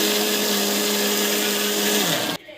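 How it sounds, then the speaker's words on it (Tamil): A mixie grinds mint chutney with a loud, steady high-pitched whine, then shuts off abruptly near the end and the sound drops away. "மிக்சியில் போட்டு அரைச்சிடலாம்."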